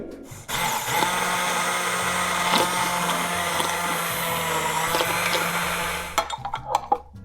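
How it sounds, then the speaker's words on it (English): A stick blender whirs through an oil-free salad dressing with a steady, loud motor whine for about six seconds, its pitch wavering slightly as it churns, then stopping abruptly and leaving a few soft clicks and knocks. "so I'm going to use a stick blender"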